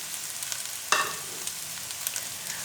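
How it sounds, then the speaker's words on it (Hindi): Shredded boiled chicken frying with onions in a pan, a steady close sizzle with a sharp stirring scrape partway through and a few lighter crackles after, no talking. "और चिकन को करेंगे फ्राई, उतनी देर तक फ्राई करेंगे जितनी देर तक इसका कलर ना चेंज हो जाए।"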